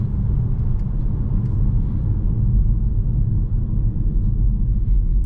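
A Mini Countryman hybrid overtaking on the road, heard from inside as a loud steady low rumble of engine and road noise with no clear change in pitch.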